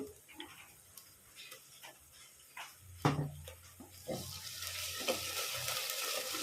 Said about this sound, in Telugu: ఇప్పుడైతే అల్లం వెల్లిగడ్డ వేస్తున్నాను నేను. అల్లం వెల్లిగడ్డ పేస్ట్,